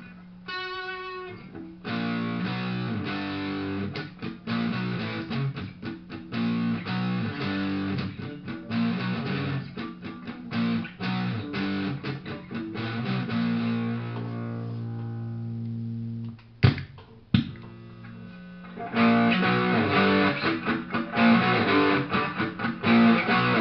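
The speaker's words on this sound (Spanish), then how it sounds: "Lo que es el pedal Metal Master con una distorsión un poco bajo para que vean más o menos cómo se escucha." Electric guitar is played through an Arion Metal Master distortion pedal set to low gain, with chords and riffs in steady bursts, a short pause near the end, then more strumming, clear and upfront.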